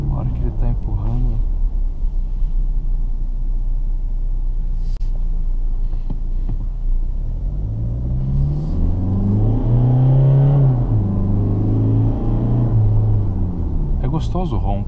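2016 Toyota Hilux diesel engine heard from inside the cab while driving uphill, a steady low rumbling drone that rises in pitch as the engine revs, with people talking over it throughout.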